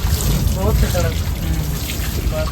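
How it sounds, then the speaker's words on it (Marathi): A car being washed with water, steady splashing and trickling close by, with voices talking over it. "यो बघा या साईडला आपला विक्रम मस्त गाडी धुतो चकाचक"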